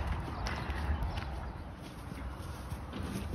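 Steady outdoor noise with soft, irregular hoof clops of a horse walking alongside two dogs, fairly distant and partly masked by wind or road rumble.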